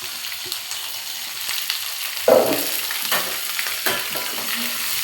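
Tomato, onions and ginger sauté in a pan with fried lentils, a continuous close sizzle broken by the clatter and scrape of stirring, one louder stir near the middle.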